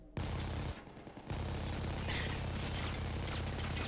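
Automatic gunfire from a McShay weapon pack gun in PAYDAY 2, a loud, rapid, continuous stream of shots at a very high rate of fire, broken by one brief pause before resuming and running to the end.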